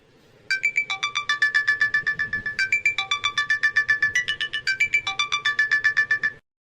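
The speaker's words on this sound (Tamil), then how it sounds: "யார் ஃபோன் பண்ணுறா?" A mobile phone ringtone for an incoming call from a hotel plays as a bright, repeating electronic melody in steady pulsed phrases. It is loud and clear, runs about six seconds with no talk over it, then stops abruptly.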